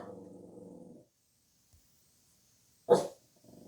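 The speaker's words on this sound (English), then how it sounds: "she's got to bark at everything" A dog barks at home in a short, loud burst near the end, with lower rumbling vocalizing before and after it and a silent gap in between.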